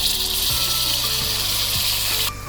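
Ginger garlic paste and green chilies frying in hot oil for chicken pulao, giving a loud continuous sizzle with a few soft scrapes of stirring.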